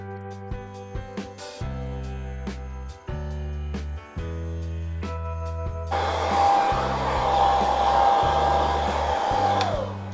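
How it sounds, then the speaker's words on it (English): A hair dryer blows over freshly painted pink Proline VW Bug Baja body for a Traxxas Slash 4x4, running close with a steady whine, louder airflow rushing in partway through. "I'm just going to use a hairdryer now just to go over this and dry this off."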